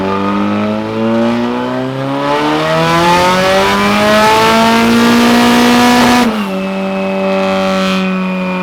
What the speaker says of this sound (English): It was doing a rolling burnout